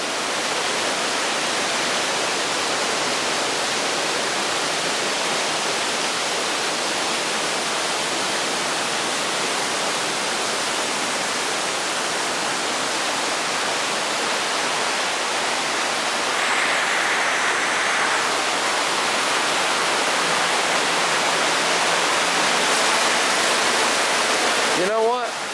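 A river rushing near Baring Falls in Glacier National Park, heard from under a shady bridge as a loud, steady broadband roar that runs unbroken throughout, with faint movement sounds near the end.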